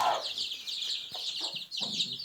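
A broody hen in a backyard coop clucks softly and repeatedly, close by, with a steady chorus of chirping chicks or small birds above it.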